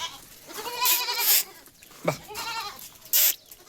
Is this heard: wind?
no